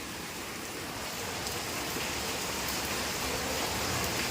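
Steady rain pours down with a dense, even hiss that never lets up, loud and close, with no voices over it.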